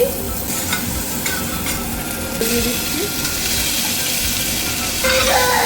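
Chopped onion and garlic frying in ghee, with a steady close sizzle and crackle under light stirring, a brief scrape partway through and a slightly louder burst near the end.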